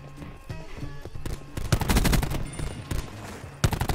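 Rapid gunfire from a Call of Duty team deathmatch on the Madagascar map, with dense overlapping shots building in several loud bursts over steady game background noise.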